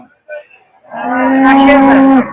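A native cow at a busy cattle market gives one long, loud, close moo lasting over a second, preceded by brief faint calls in the background.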